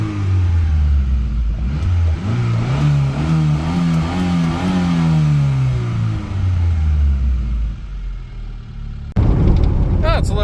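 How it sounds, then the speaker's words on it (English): A Honda Civic Wagovan engine fitted with a Weber carburetor revs up and down in several loud rising and falling sweeps, close by and steady, with a louder burst near the end. "Let's kind of give her a few rev tests and just see how she does."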